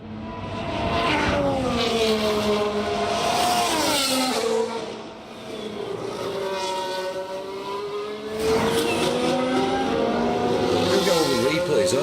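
Formula 1 race car engines at Monaco in the F1 Manager 2023 racing game, a loud, continuous high-pitched whine that rises and falls as cars accelerate and shift, with a brief dip midway before surging again.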